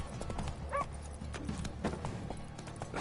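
Horse Roach galloping in The Witcher game, rapid clip-clopping hoofbeats in a steady rhythm, fairly close and moderately loud, with a brief whinny and other game sounds mixed in.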